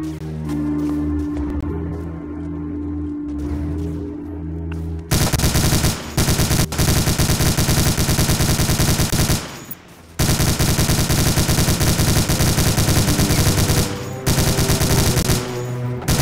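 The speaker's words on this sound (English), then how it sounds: "Man that machine gun!" Machine gun fire in the World War II shooter Medal of Honor: Allied Assault, loud sustained bursts that start after about five seconds over a game soundtrack, with brief breaks before continuing.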